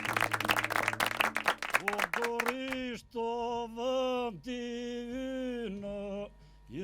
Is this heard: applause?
yes